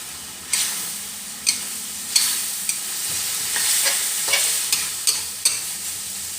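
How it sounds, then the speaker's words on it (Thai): Minced pork stir-fried with red soy sauce in a pan for Thai basil pork: a steady sizzle broken by sharp, regular clicks of a spatula striking the pan, close and loud with no talking. "ผัดให้พัดให้เข้ากันเลยจ้า"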